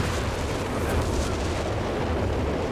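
Walking Stuka rocket barrage from German forces in Company of Heroes 3 pounds the ground with a dense, continuous roll of overlapping explosions, heavy and close, with no talk.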